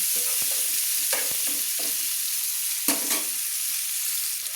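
Onions frying in a pan for a Bengali spinach and prawn dish, a steady close sizzle with occasional scrapes and stirring clatters, no voices.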